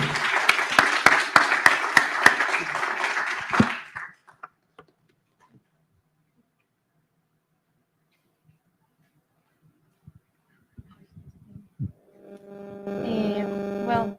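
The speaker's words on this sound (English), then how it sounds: "I guess this would be the right time to applaud to start the conference." An audience at an annual economics research conference applauds at the opening, a burst of dense clapping lasting a few seconds before trailing off into near silence, with a voice and some noise returning at the end.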